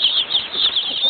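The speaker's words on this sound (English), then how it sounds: "so we just got our new chickies. These are our meat birds." Newly delivered meat-bird chicks flap and scuffle in a steady, dense rustle close by. A continuous high chirping runs over it with no talking.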